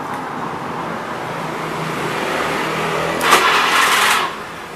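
The electric starter on a Honda Vario scooter cranks the engine in a short whirring burst over a steady background of nearby engine noise, with no voices.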